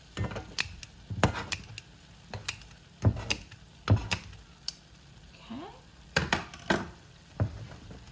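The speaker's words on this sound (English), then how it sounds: "I give this a good little stir with my spoon." Chicken pieces, still pink, being stirred with a spoon in a pan, giving a run of irregular scraping clacks and knocks over a faint sizzle, with brief pauses between strokes.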